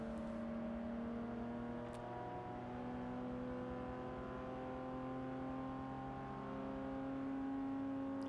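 Racing car engine in the Forza Motorsport 6 video game, a steady, loud sustained engine drone with strong harmonic whine held at near-constant revs throughout, alone without talk.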